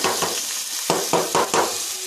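Cumin seeds sizzling in hot oil in a pan as a tempering, a steady crackling fry with a few sharper bursts of sizzle.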